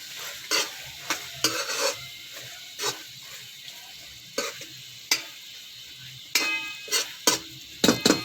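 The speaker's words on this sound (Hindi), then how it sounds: "सबसे पहले मैं इसमें कैरेट डालूँगी" Finely chopped carrots stir-fry in a pan, a sizzling bed broken by sharp, irregular scrapes and knocks of a spoon stirring, close and clear.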